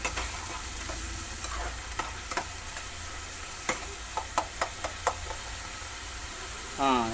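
Chopped onions and green chillies fry in oil for gongura prawn curry, a soft steady sizzle with spoon taps and scrapes clustered near the end, followed by a brief louder clatter.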